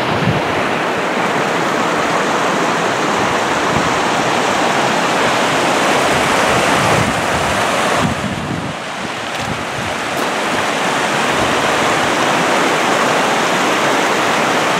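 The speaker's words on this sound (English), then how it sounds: "That's where we filtered water down there, probably 3 or 4 waterfalls down." Rushing waterfalls on a wild stream in the backcountry, a loud, steady roar of falling water mixed with wind buffeting the microphone, constant throughout with a brief dip midway.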